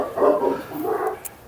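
A giant Turkish Kangal dog gives two deep barks close by, one after the other, with a brief pause between them.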